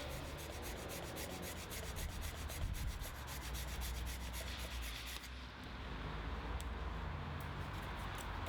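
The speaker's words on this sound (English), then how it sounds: "keep the blade as flat as possible so you don't cut into the grip, and just work your way around until you've cut the lug off" A hacksaw blade rasps rhythmically against a rubber heated motorcycle grip on a KTM 390 Adventure, cutting off its lugs in quick, steady close strokes that pause briefly midway, with no talking.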